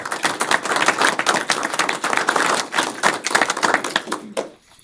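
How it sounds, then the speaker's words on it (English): Town council meeting audience giving a round of applause, fairly close, uneven bursts of clapping that carry on for several seconds before fading out abruptly near the end. "So that alone deserves a round of applause for management of that"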